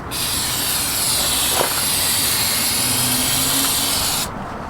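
An aerosol can of Gunk engine degreaser sprays continuously in a car engine bay, a steady close hiss lasting about four seconds before cutting off.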